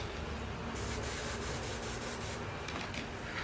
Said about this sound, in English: I'm going to go ahead and spray over this little dot that I put on before.